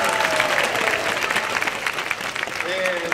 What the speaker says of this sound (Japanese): プロジェクト福島にも拍手